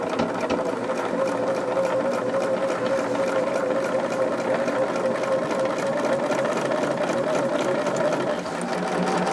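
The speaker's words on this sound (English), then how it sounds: "So we are going to do a really thin top stitch, about 1/8 of an inch there." A sewing machine runs steadily for several seconds, a fast, even mechanical whirr with rapid needle ticking, top stitching a thin eighth-inch seam on a fabric Wilma pouch.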